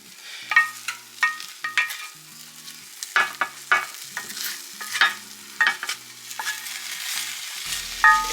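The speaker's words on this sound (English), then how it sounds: "Yeah, you hear that sizzle?" Cubed butternut squash sizzles steadily in a frying pan while a utensil stirs and scrapes it in repeated sharp strokes, loud and close with no talking.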